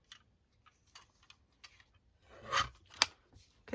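Small scissors snipping a paper tag to size at a craft table: a few faint light snips early, then two sharper, louder cuts near the end, with quiet rustling between and no talking.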